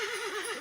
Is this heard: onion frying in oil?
no